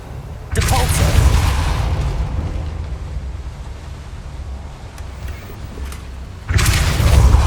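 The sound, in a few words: Depulso spell cast in video game Hogwarts Legacy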